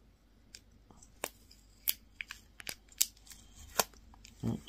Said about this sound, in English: Let's get the sticker off and have a look.